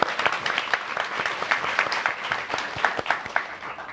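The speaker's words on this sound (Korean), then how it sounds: "박수 한번 부탁드리겠습니다." A studio lecture-show audience gives a short burst of clapping, individual claps distinct and fairly close, moderately loud throughout.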